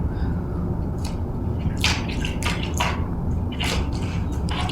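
A small bird splashes as it bathes in water on a small plate, giving soft, scattered drips and flicks of water close by against a steady low background.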